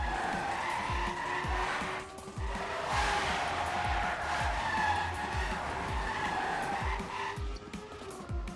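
Race cars in Trackmania skid and squeal their tires through a crash, with a steady engine drone under a rapid pulsing of wheel noise and a brief dip partway through, loud and close with no talk.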